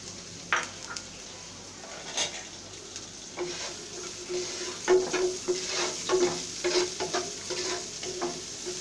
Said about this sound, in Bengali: এই তেলের ভিতরে আমি পেঁয়াজ কুচি দিয়ে দিচ্ছি